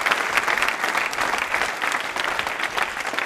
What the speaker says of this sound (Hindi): तालियां बजा लीजिए इनके लिए।